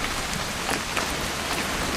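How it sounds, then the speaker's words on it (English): Steady rain in What Remains of Edith Finch, falling evenly on surfaces with a dense, continuous hiss and scattered nearer drop splashes, with no voices. "It's gonna rain the whole weekend, isn't it?"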